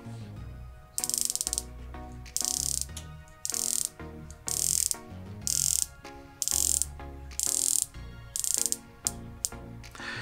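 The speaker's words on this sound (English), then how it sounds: "let's listen to the bezel action" Rotating aluminum bezel on a Knot Kinetic 200m dive watch clicking in close-up: bursts of crisp ratcheting clicks in repeated runs of about a second, separated by short pauses, loud and alone.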